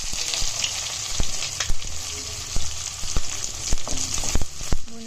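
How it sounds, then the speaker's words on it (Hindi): Onions frying in hot oil with cumin seeds in a pan, a loud, steady crackling sizzle punctuated by regular sharp taps and scrapes of a spoon stirring. "प्याजों को हमें लाइट गोल्डन कलर तक फ्राई करना है।"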